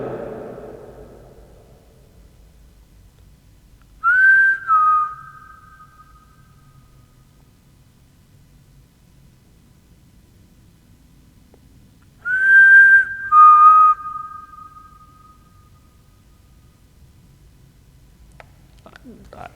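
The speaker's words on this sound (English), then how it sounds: "I'm gonna whistle again." Two separate whistled phrases from a person inside an old, reputedly haunted elementary school building, each a short clear tone with a pitch drop, around 4 and 12.5 seconds, spaced apart in an otherwise quiet room.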